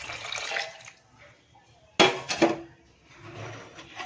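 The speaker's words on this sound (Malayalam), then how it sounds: "ആ വെള്ളം ഇതിലേക്ക് ഒഴിച്ചു കൊടുക്കാം" Salted cooking water from boiled gooseberries (amla) poured into a pan of gooseberry pickle, a sudden close splash and gush of liquid with clatters against the pan, between quieter stretches of faint handling.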